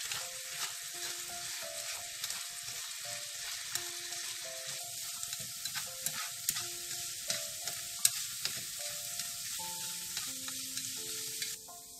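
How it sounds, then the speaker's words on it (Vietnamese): Pork fat cracklings are stir-fried in a sweet and sour sauce on the stove, a steady close sizzle broken by repeated light clinks and scrapes of the stirring utensil against the pan, with no voices. "Bây giờ mình sẽ xào trên bếp để cho cái nước sốt của mình đó nó bám vào trong cái chất mỡ"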